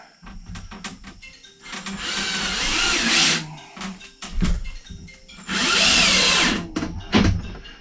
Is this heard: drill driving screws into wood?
yes